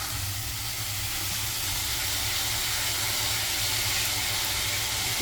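Hot oil hissing and sizzling steadily after potatoes fried with cumin seeds and green chili, a dense broadband crackle with a low hum underneath, continuous and close, with no talk.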